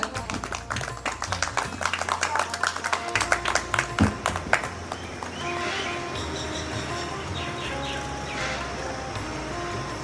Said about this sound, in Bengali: হাততালি চলুক